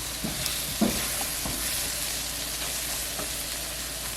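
Apples and caramelized onions frying in a pan over medium-high heat, a steady close sizzle with a few soft stirring clinks and scrapes, no voices.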